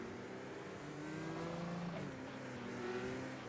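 IndyCar race cars at Mid-Ohio in iRacing drone along behind the pace car to warm up, engines revving and shifting pitch steadily, fairly quiet and without talk.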